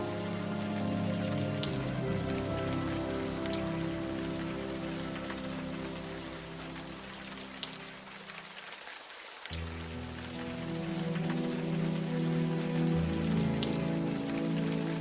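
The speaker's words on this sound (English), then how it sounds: "The rain isn't helping, that's for sure." Rain falls steadily in the video game Unavowed, a soft continuous patter over a low droning music bed that briefly drops out and returns.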